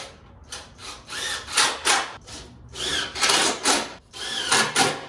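Wood screws 2.5 inches long driven with a power driver into a 2x4 during ramp pad assembly, heard as several close, rasping bursts of bit and wood grinding with short pauses between them.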